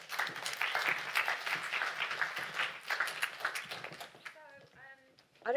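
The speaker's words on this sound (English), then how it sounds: "A round of applause for the panelists." An audience at a panel discussion on citizenship and diversity claps in a dense, steady round of applause for about four seconds. The applause fades, and a speaker's voice follows.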